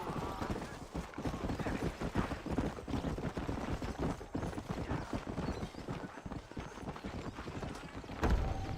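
Horse hooves galloping in a video game set around the frontier town of Armadillo, a steady rhythmic clip-clop running the whole time under music and ambient game sound, with a brief voice near the start.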